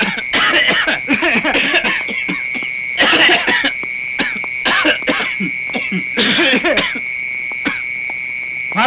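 Someone coughs deliberately as a signal in several short, separate bursts spread across the scene, over a thin, steady high tone in the background.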